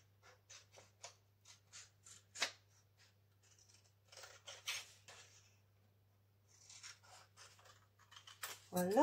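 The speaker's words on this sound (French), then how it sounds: "je vais découper tout de suite" Paper being cut with scissors in a quiet room, a run of short crisp snips in steady rhythm, then a pause and a second quicker burst of snipping, close and clear, ending with a louder scrape.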